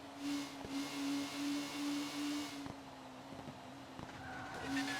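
Race car in the STCC racing video game oversteering, tires squealing in a repeated pulsing whine over steady engine drone, with sharp clicks and a brief high tone near the end; no talk.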